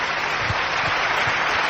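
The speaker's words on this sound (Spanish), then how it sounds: "Un aplauso para esos que..." Audience applause at a Spanish-language success talk, a dense steady wash of clapping from a crowd, loud and continuous, with faint low thumps underneath.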